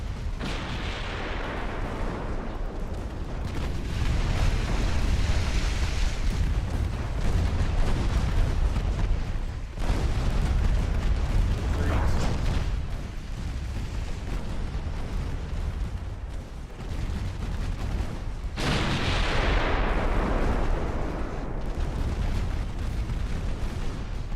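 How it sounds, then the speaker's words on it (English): Ships launching torpedoes and exploding in a space battle video game make a dense, continuous roar of booms and bursts that swells and drops in waves, loud throughout with no speech. "This is literally a minor ally with this many ships spamming torpedoes, doing this kind of damage to my fleet"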